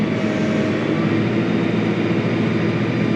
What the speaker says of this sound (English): And just like that, we're chopping straw.